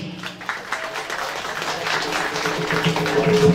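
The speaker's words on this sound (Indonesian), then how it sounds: "Tepuk tangan semuanya yang ada di sini." Audience applause at an Indonesian martial arts event, a Kempo karate and pencak silat collaboration, builds from scattered claps into a steady wash of clapping that grows louder toward the end, with faint background voices.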